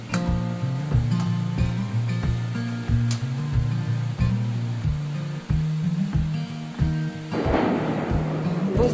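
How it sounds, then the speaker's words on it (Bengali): Heavy thunder rumbles outside during a storm while fish is being prepared for cooking. A broad, rolling rumble swells near the end over faint rhythmic background music. "বুঝতে পাচ্ছেন মেঘ ডাকছে প্রচন্ড পরিমাণে।"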